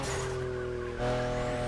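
A Liberty Walk-bodied BMW M4 in The Crew Motorfest racing game holds a loud, steady engine drone close up, and its pitch steps to a new note partway through as though shifting gear.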